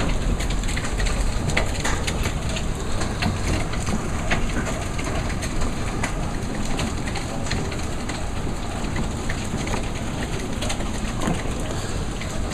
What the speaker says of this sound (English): Oh man, it's really hailing.